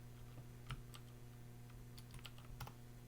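Typing on a computer keyboard during a laboratory computer exercise, a few scattered key clicks over a steady electrical hum, fairly faint and with no talking.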